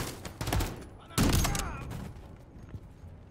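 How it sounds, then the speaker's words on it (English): Sniper rifle shots in the Modern Warfare 3 campaign, two loud booming cracks close together with a ringing tail, set against quieter game ambience and a voice speaking. "I love the way the sniper sounds"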